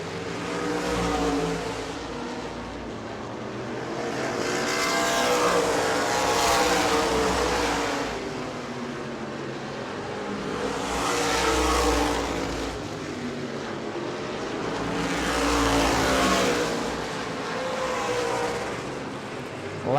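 Florida Modified race cars lap the New Smyrna oval, their engines swelling as they pass and fading away in repeated waves, loud and roaring, with an announcer talking over them.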